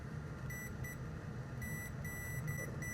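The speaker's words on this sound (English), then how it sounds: "We have a beep here." Multimeter in continuity mode checking a graphics card capacitor against slot pins, giving short, steady electronic beeps in bursts over a low background hum.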